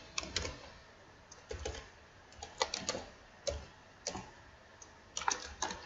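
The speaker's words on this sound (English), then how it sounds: "I'm going to type monthly" Close, quiet keystrokes on a computer keyboard come in uneven bursts of clicks while someone types a short entry into an Excel spreadsheet.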